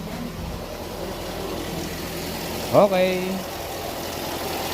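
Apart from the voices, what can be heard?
Toyota Vios 2003 engine running at idle after repair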